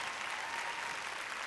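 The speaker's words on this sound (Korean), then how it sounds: "자 여러분 박수 한번 보내주세요" An audience at the 2018 Seoul Drama Awards breaks into dense, even applause, a continuous crowd of clapping hands with no voices rising above it.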